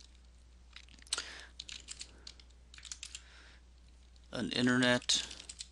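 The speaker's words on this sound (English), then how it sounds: "I'm simply going to type in a note here." Fingers type a note on a computer keyboard, a close, quiet run of light key clicks in short bursts, followed by a brief spoken phrase.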